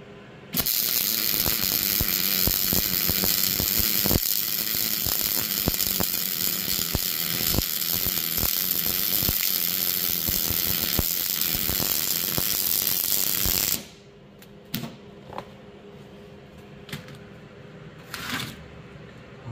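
Arc welding on a replacement trailer hitch: a continuous loud crackling buzz holds steady for about thirteen seconds, then cuts off, leaving only faint clicks and small knocks nearby.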